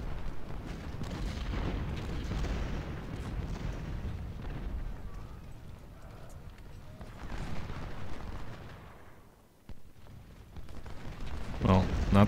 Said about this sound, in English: You're firing right into this federal unit's flank